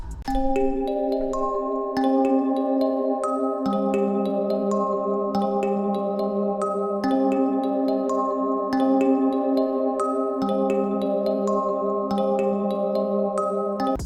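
Dark flute sample melody played dry in FL Studio with no effects, a repeating pattern of sustained breathy notes over a steady low drone, clean and continuous with no voices.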